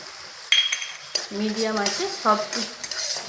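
A spoon scrapes and stirs ground spices (cumin, coriander, turmeric, red chilli) in a hot pan for Bengali steamed egg curry, with clinks of metal and a steady sizzle underneath, loud and close.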